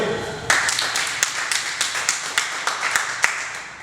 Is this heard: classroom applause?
yes